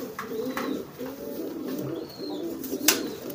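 Young pigeon squab cooing close by, soft repeated low coos in a steady murmuring rhythm with a faint chirp near the end.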